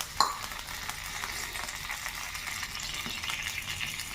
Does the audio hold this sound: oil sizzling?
yes